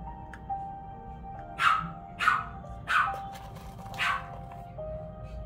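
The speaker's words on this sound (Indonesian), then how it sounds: "saya maaf ya kalau misalnya anjing saya agak ribut" A dog barks four times indoors, sharp evenly spaced barks at moderate distance, over a faint steady background tone.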